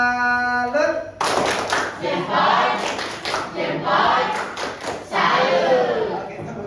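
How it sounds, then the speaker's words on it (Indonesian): A classroom of students performs the rhythmic tepuk salut clap together, bursts of patterned group clapping and thumps mixed with voices chanting along, after a short tone at the start. "mari kita kasih salut ya. Tepuk salut."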